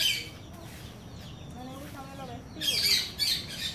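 A parakeet squawks in harsh, chirpy bursts in a home yard where papayas are being cut, louder and denser toward the end over a low background murmur.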